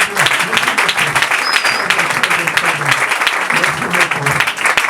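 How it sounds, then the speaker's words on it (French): A church congregation at an elders' consecration service applauds a representative following online, sustained dense clapping that stays loud throughout, with some voices and cheering mixed underneath. "Alors nous pouvons acclamer pour lui."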